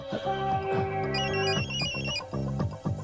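An electronic telephone ringtone in a Hindi film scene plays a repeating melodic ring pattern, steady and fairly loud, with no talking over it.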